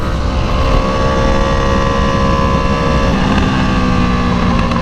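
A motorcycle engine drones steadily during a ride, loud and constant, with wind noise and a shifting tonal whine as the revs change.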